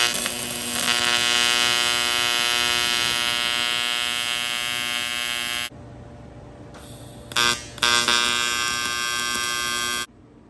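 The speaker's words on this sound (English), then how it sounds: "I'm going to go ahead and tack weld this filler neck in now" Tack welding a filler neck onto a hand-made motorcycle gas tank for a supercharged Harley chopper gives a loud, steady electric buzz, broken by short pauses and then brief bursts before cutting off near the end.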